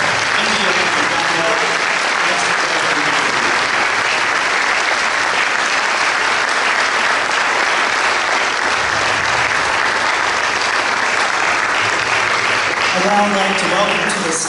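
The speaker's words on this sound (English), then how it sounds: "One more huge round of applause for our brave panelists." Sustained applause from a conference audience at an LGBT diplomacy forum, dense and steady clapping filling the whole stretch, loud and close, with a few voices briefly audible near the start and end.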